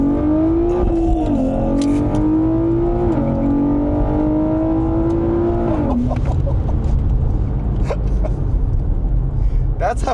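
A Nissan Z with a turbo-upgraded VR engine pulls hard after a downshift, its loud engine note rising in steps through gear changes, close inside the cabin, with people talking over it.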